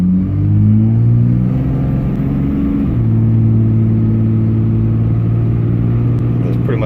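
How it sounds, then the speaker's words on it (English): A 2006 Ram 2500 pickup, which is down on power, is floored from a stoplight. Its engine drones loudly and steadily, and the pitch shifts midway through as it accelerates. Someone talks over the engine noise. "we're going to go ahead and do a full throttle stab"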